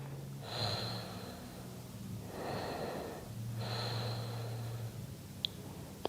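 Slow, deep breaths during a gentle post-abdominal-surgery yoga twist, three long airy inhale-exhale cycles heard close and fairly soft, with no talking.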